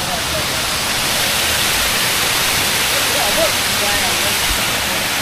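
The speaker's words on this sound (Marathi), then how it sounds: "हा छोटासा ओढा लागलेला आपल्याला इथे बघू शकता." A small stream on the trail to Tandulwadi Fort in Palghar district rushes loudly and steadily, a close, continuous broadband water noise without pause.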